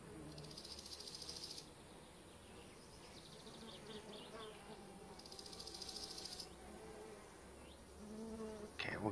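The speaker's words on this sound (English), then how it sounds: "Flies are buzzing today" Flies buzz continuously in the My Summer Car video game, a close insect whine that rises and fades in waves, loudest near the start and again around the middle, with no voices.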